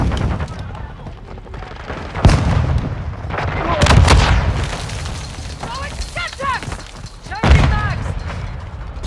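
Heavy gunfire and explosive booms in Call of Duty: Modern Warfare II during a Control match, with loud bursts and impacts repeating throughout, shouted voices mixed in with the battle.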